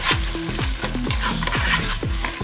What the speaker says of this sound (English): After the onions are cooked, add your tomatoes in.